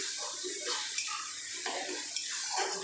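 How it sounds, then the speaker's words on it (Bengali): Hot water poured into a katla fish kaliya curry in a pan, a steady close rushing splash throughout with slight surges, while someone talks over it. "এবার আমি জল দিয়ে দেবো আমি এখানে গরম জল ইউজ করছি"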